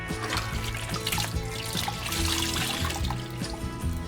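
Cleaner sprayed and water trickling and splashing across a boat's interior surfaces, a steady wet hiss and dribble with no pauses.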